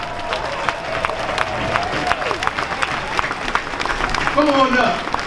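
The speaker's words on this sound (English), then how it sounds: "Give him a round of applause, y'all." A gala audience claps and cheers as a university president is welcomed on stage, sustained applause with scattered shouts and voices rising near the end.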